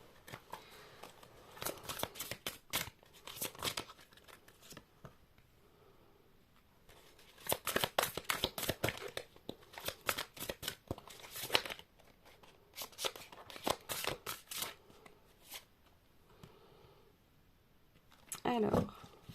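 Tarot cards shuffled by hand in bursts of crisp riffling and flicking, loud and close, separated by quieter pauses, while someone speaks French over part of it.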